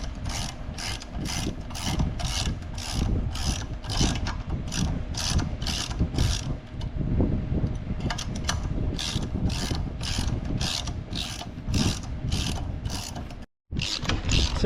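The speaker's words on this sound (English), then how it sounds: "Now I just gotta find my 7/16 deep well and pull that down." Ratchet wrench turning a 7/16 deep well socket on the exhaust manifold of a Case 305, a steady run of loud, close, evenly spaced clicks throughout, briefly broken near the end.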